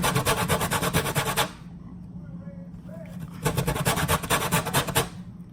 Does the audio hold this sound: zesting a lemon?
yes